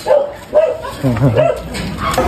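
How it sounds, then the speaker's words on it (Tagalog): A dog lets out a few short barks and yips nearby, loud and close, with a whiny edge to some of them. "Yung aso."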